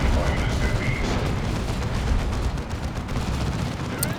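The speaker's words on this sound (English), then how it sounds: "That's cannon shot into the hull of the Lehman Ross, a heavy tank." Cannon fire striking the hull of a heavy tank in the video game Dawn of War 2, loud dense battle noise with booming impacts and overlapping gunfire throughout.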